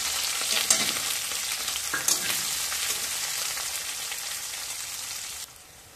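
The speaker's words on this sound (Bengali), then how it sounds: "এবার দেবো কুচনো পেঁয়াজ।" Chopped onion sizzles in hot oil in a pan with whole cumin and five-spice tempering, a steady bright crackle with a couple of sharper pops, fading slightly at the end.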